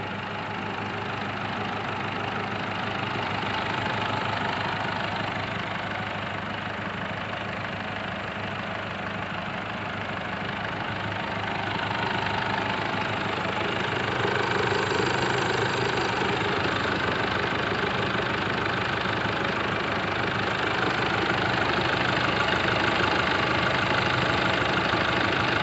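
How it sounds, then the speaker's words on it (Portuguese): A 2011 Chevrolet S10 Executive pickup with a 2.8 MWM turbodiesel engine idles steadily nearby with a low, even rumble and a slight knocking rattle throughout, without talk. "Olha o barulhão do motor da bruta."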